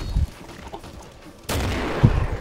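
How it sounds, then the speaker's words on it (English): A grenade goes off in the shooter game Killing Floor with one sudden loud burst, and the heavy rumble carries on for a second. Quieter game noise comes before it. "So I'm gonna throw a grenade right here."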